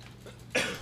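One sharp cough lands right against the microphone during a quiet moment in a Naruto Shippuden Ultimate Ninja Storm 4 gaming session, a brief loud burst after near silence.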